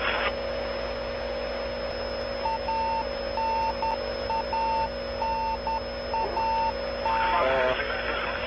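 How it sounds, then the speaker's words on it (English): A Soyuz capsule's radio beacon emits regular short beeps over a constant electronic hum on the recovery communications channel after landing, with a burst of radio chatter near the end. "That's the familiar radio beacon"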